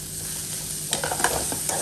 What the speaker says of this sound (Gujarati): આ બધો જ મસાલો છે એને સારી રીતે હલાવી લઈએ અને ગેસની ફ્લેમ છે એકદમ મીડિયમ રાખવાની છે